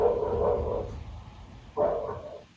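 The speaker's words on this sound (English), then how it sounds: "A dog began to bark" A dog barks in two muffled bursts with a pause between them, heard from a distance in a quiet setting with no voices.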